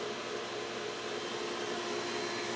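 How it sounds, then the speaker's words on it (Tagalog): At a beachfront resort in Zambales, the pool pump and DE filter machine run with a smooth, steady hum and whir, a continuous mechanical drone at moderate level without voices. "Ito yung makina ng pool, mga boss."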